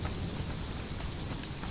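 A tropical rainstorm in the jungle of the game Conan Exiles, with steady heavy rain and low thunder rumbling continuously, dense and enveloping, without any speech.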